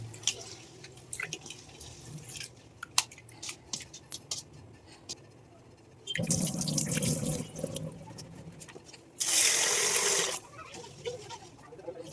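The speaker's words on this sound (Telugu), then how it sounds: "వీటన్నిటిని ఇప్పుడు వాష్ చేసేసుకుందాము" Splashing and dripping water in bursts, with a stretch of running water near the end, as nuts are rinsed and shaken in a bowl.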